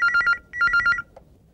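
A telephone rings in two bursts of rapid electronic trills, loud and close, followed by a brief faint tone, with no talking over it, in a Hindi TV comedy set at home.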